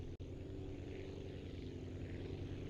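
Steady rotor and engine drone from a helicopter in the flight game Aviassembly, a continuous broadband hum with a brief dropout near the start and no talk over it.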